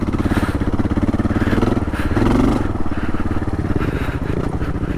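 A KLR650 adventure motorcycle fitted with YSS suspension and AX41 tyres rides over a rocky, eroded trail, its steady engine drone mixed with clattering thumps from the rough ground.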